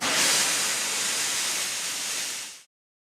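Henry the steam engine lets out a loud, steady hiss of steam that holds for about two and a half seconds and then cuts off abruptly.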